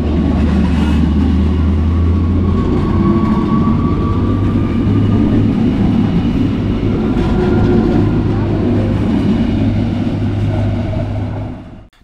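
A Usedomer Bäderbahn regional passenger train rumbles steadily close by, with a low engine drone and rolling wheel noise that holds for several seconds before dropping away.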